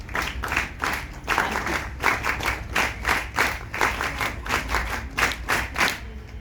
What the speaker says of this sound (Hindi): जो आपका ताली बजाने का तरीका ये मुझे बहुत पसंद आया